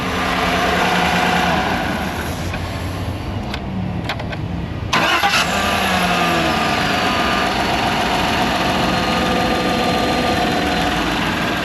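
A car engine in a repair shop is shut off, cranked and restarted, then settles into a steady, loud idle that continues to the end; no one talks.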